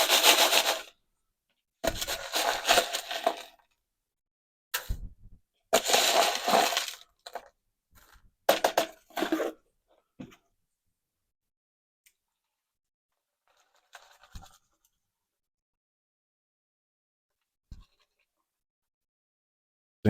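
Gold paydirt being panned, with bursts of gritty gravel and water sloshing and scraping in a pan, loud near clusters followed by long quiet gaps and a few faint isolated clinks toward the end.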